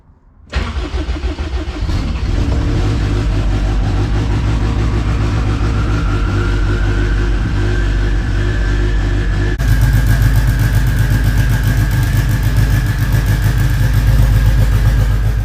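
After a short quiet moment, the engine of an AWD Honda Civic fitted with a mechanical fuel pump cranks and fires, then settles into a loud, steady idle whose pitch rises slightly as it revs, close up with no talk.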